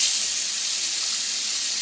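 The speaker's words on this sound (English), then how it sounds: "Then you should have running water and a drip-free tap." Water runs steadily from a repaired tap, a constant close hiss and splash that holds without a break and with no voices over it.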